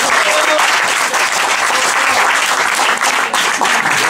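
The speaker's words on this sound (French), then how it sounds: "on peut l'applaudir" Audience applause at a French television song show, dense and loud clapping that stays steady throughout without a break.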